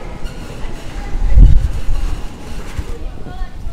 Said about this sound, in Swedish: Nu kommer precis tåget här till Mörby.